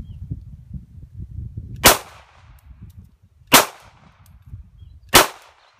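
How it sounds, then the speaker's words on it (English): Three sharp Glock 17 9mm pistol shots strike an impregnated fiberglass level one ballistic shield insert, each loud crack spaced about a second and a half apart over low background rumble. "We're gonna shoot in our level one Saviorshield. And we're gonna shoot 3 rounds and show you how it catches the round"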